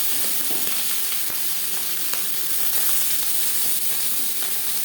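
Marinated tangra fish fry in hot refined oil in a large wok, giving a loud, steady, close sizzle with crackling pops and occasional sharp spits throughout.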